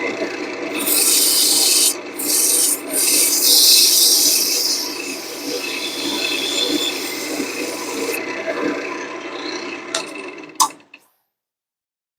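Sandpaper rasps against a wooden pen blank spinning on a lathe between bushings, a loud continuous scratchy hiss with a few brief breaks, then a final scrape before sudden silence.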